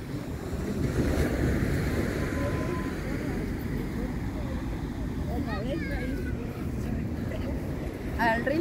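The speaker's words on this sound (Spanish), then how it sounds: "El mar." Sea waves wash steadily onto the shore at Caleta Lenga, a small cove in Hualpén, Chile, with a continuous loud surf roar and wind buffeting the microphone. Faint voices sit in the background.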